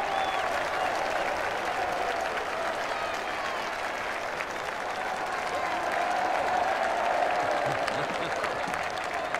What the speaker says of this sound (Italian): Non avevo mai visto una folla così imponente.